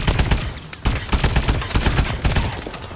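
The AE4 energy weapon fires in Call of Duty: Advanced Warfare, a rapid, steady stream of punchy shots that repeat in tight bursts with one brief pause, loud and up front.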